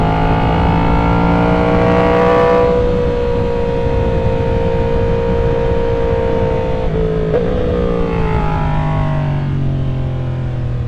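Racing motorcycles run a warm-up lap at a track school, making a loud, continuous engine drone whose pitch holds steady, dips and then rises again, heard up close.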